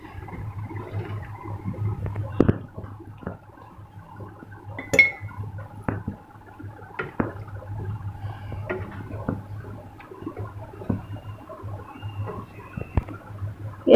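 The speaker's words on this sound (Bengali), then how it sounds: "দুধটা দেওয়ার পর এখন একটু নেড়ে চেড়ে নিলাম।" A spoon stirs payesh sweetened with date-palm jaggery in a metal pot just after powdered milk goes in, giving scattered soft clinks and scrapes against the pot over a low steady hum, close and fairly quiet.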